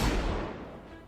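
A single heavy gunshot from the Ace of Spades in the video game Destiny, with a booming low-end thump that decays into a fading, rumbling echo over about a second.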